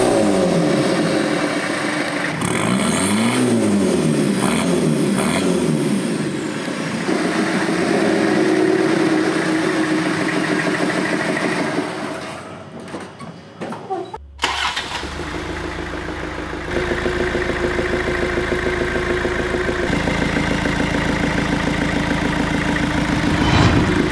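A swapped diesel engine cranks and catches after bleeding the injectors, then runs with a loud, steady clattering idle close to the microphone; an abrupt cut midway leads into continued running.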